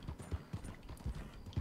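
Horse hooves clip-clop at a steady trotting rhythm in Red Dead Redemption 2, a large rider on a comparatively small horse, each footfall a low thud close by with no talk over it.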